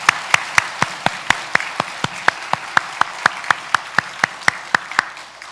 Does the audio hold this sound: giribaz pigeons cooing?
no